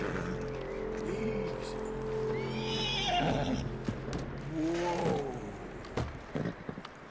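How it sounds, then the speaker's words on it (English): A horse in Red Dead Redemption 2 whinnies and neighs in a few shrill, wavering bursts, with hoof clops and shuffling nearby at close range. "Okay, we need to calm the horse."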